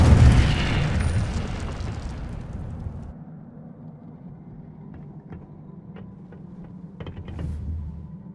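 A fire spell cast in Hogwarts Legacy bursts with a loud, roaring whoosh that fades over about three seconds into a low rumbling crackle, with a few small pops and a swell of flame near the end.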